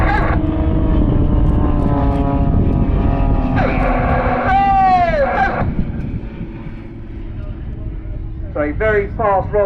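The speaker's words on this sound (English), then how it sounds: "get ready to see the incredible roll rate of the Extra 300. This aircraft can roll at 400 degrees a second" Extra 300 aerobatic aircraft flying fast aileron rolls at an airshow, a loud buzzing engine roar with rising and falling pitch sweeps as it passes, heard under a public-address commentator talking throughout.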